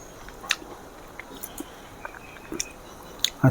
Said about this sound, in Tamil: இப்போ இந்த முருங்கைக்காய் பொரியலை நம்ம டேஸ்ட் பண்ணி பார்க்கலாம்